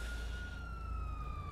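A steady electronic siren tone from GTA 5 wailing at a distance over a low rumbling background, continuous for a moment with no voices.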